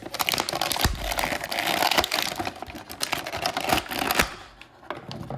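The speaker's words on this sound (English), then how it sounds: "you might want to turn them down because there's going to be some crinkling" Plastic packaging crinkles and crackles continuously while a G.I. Joe figure is unboxed, with sharp snaps and rustles close to the microphone and a brief quieter pause near the end.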